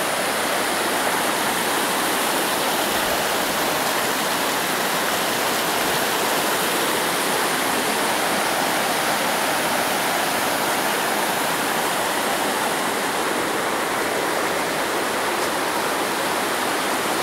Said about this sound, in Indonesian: Ini suara terdengar gemuruh air sungai